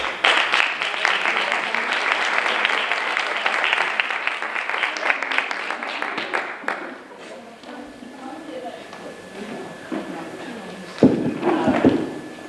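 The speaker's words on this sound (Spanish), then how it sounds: "Lo recibimos con un aplauso." Audience applause welcomes a speaker at a rural tourism conference, a dense wash of clapping for roughly seven seconds that dies away, followed by quieter room noise, a few shuffles and some brief voices.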